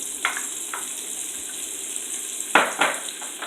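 Garlic and scallion fry in a heated pan, with a soft continuous sizzle and a few sharp crackling bursts near the end, heard close up and with no talking.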